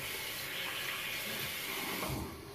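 Warm water runs steadily from a tap into a sink while shaving, a constant close hiss and splash heard alone without pauses.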